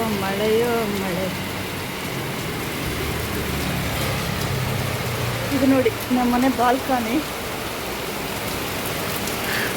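Heavy night rain falls steadily beyond a home balcony in Udupi, a dense even wash of noise throughout. Someone talks over it, and a few brief tonal calls or squeaks rise in the middle.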